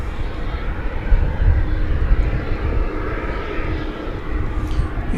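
A Boeing 767 bound for Louisville pushing back at night at DFW Airport, a loud steady jet engine roar with low rumble that swells and eases slightly, faint voices nearby.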